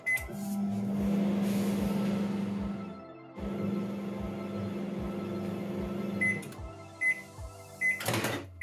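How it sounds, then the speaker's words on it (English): A 1000-watt microwave oven hums steadily with a low drone and rhythmic ticking, pauses briefly, resumes, then ends with beeps and a door clunk. "I'm just going to zap it for a minute in the microwave."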